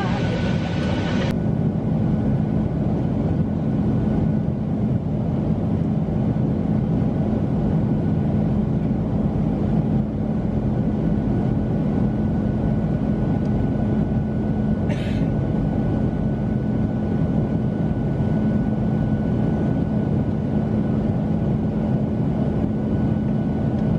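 Busy interior ambience at Atlanta airport, a loud continuous rumble and hum of machinery and crowd with no distinct events, steady throughout.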